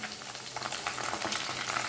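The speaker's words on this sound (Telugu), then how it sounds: "ఎండు మిరపకాయలు వేసుకోండి సిమ్లోనే పెట్టుకొని చక్కగా వేయించుకోండి" Dry red chillies and coarsely crushed shallots fry in hot tempering oil on a low flame for a tomato and ripe red chilli chutney, giving a steady close sizzle and crackle with no talking.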